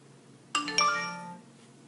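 A phone chimes once for a text message: two quick bright bell-like tones that ring out and fade over about a second in a quiet room.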